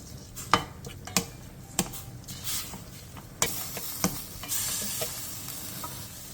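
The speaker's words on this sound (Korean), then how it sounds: "냄비에 들기름 1스푼을 두른 뒤 소고기 양지 200g, 다진 마늘 1스푼, 국간장 3스푼을 넣고 골고루 어우러지게 볶아주세요" Beef brisket, minced garlic and soy sauce stir-fried in perilla oil in a pot give off a close, steady sizzle, broken by several sharp spatula taps and scrapes and swelling to a louder hiss near the end.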